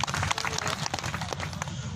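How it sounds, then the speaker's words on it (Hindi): Audience applause at a rally, a dense, loud wash of clapping that keeps up steadily for a couple of seconds, with faint voices mixed in. "तालियां बजाओ जोरदार इनके लिए"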